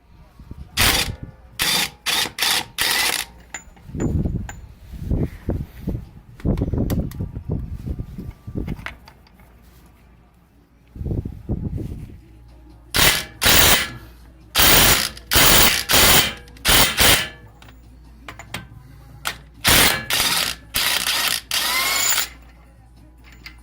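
Bursts of a Kawasaki ratchet tool zip and rattle in short, loud repeated runs while taking off the front axle nut on a 1991 Acura Integra LS, with quieter clicking and shuffling between bursts.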